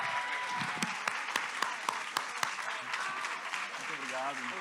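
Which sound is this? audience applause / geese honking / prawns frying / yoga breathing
audience applause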